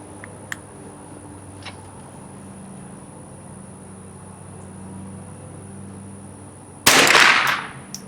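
A single rifle shot fired outdoors while testing a CVLife 2.5-10x40e scope, a sharp loud crack near the end after a long quiet stretch filled with steady insect buzzing.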